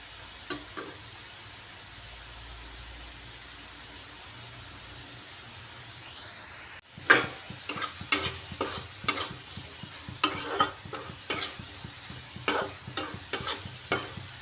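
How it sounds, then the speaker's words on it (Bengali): Potatoes being fried crisp and stirred in a pan, a continuous oil hiss with a run of sharp spatula scrapes and clacks against the pan in the second half, close up. "আলুগুলো মুচমুচে করে ভেজে নিয়েছি।"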